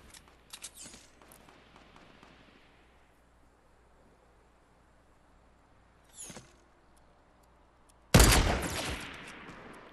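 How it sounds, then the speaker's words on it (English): Minigun fire in Fortnite: a sharp burst of rapid shots near the start, a short rattle around six seconds, then a loud sustained close volley at the end, with quieter game ambience between and no talk. "How is he shooting me with a minigun and doing that much damage?"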